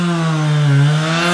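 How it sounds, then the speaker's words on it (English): A chainsaw drones steadily at a log yard beside a huge firewood pile, its engine note loud and continuous with a slight dip in pitch midway, no voices over it. "the chainsaw is very noisy in the background"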